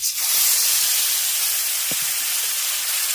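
Dried red chillies, green chillies, turmeric and mustard paste hitting hot oil in a pan, a loud, close, continuous hiss of sizzling with a faint clink.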